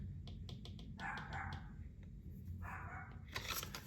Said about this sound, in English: Sorry if y'all can hear my dog barking in the background.